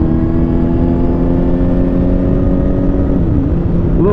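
A 2007 Kawasaki Ninja ZX-10R sportbike engine runs loud and close in a steady, throbbing drone with a slight pitch wobble near the end and no talking.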